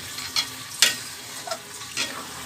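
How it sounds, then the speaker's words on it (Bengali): Soaked rice fries in a pan while being stirred, a constant sizzle broken by several sharp scraping stir strokes at irregular intervals, close and fairly loud, with no speech. "এখন ভিজিয়ে রাখা চালটা দিয়ে একটু নাড়াচাড়া করে তারপরে পানি দিয়ে দেবো।"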